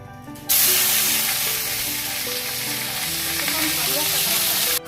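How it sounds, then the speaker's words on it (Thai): Shredded cabbage hits hot garlic oil in a wok and erupts into a loud, steady sizzle that holds evenly for several seconds, close and continuous with no voices. "น้ำมันร้อนแล้วเราก็ใส่กระหล่ำไปเลยค่ะ"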